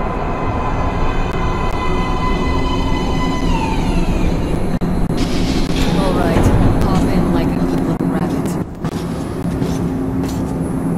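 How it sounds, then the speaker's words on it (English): A metro train pulls into a station platform in the video game Metro: Last Light, a loud rumbling roll with descending metallic brake squeals, and background game ambience throughout. "Train coming in."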